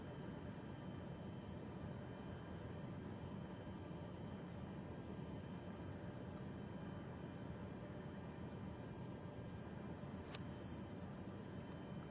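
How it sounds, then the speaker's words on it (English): A Boeing 737 in a flight simulator game approaches to land near Memphis, heard as a steady broadband jet rumble and airflow hiss that holds constant throughout, with a brief faint clink near the end. "We've got an aircraft coming into the land now."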